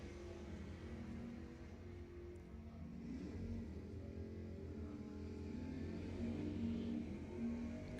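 Drag racing cars, including a Mustang, accelerate down the strip at Lebanon Valley Dragway, heard as a faint, distant, steady engine drone that swells slightly toward the end.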